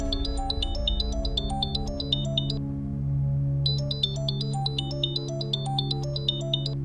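A phone rings with a call from a school, a bright melodic ringtone repeating in quick chiming phrases over a soft musical backing, briefly pausing before the tune resumes.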